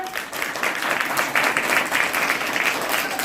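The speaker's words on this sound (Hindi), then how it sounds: "ताली बजाइए।" An audience at a school teacher and parent seminar claps after children recite a poem, with a steady, full round of applause that holds at an even level throughout.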